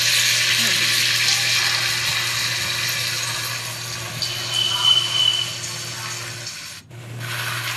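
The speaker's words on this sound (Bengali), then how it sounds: "এখানে বেগুনি ভাজা হচ্ছে" Eggplant fritters (beguni) frying in oil, a steady, fairly loud sizzle with some rubbing and stirring noises, briefly dropping out near the end before resuming.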